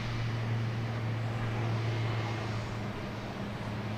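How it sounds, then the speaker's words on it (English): A Boutique Air plane at Boston Logan Airport drones with a steady, even engine hum and a low tonal whine, heard from a distance with no voices. "This is that boutique air that was making all the noise."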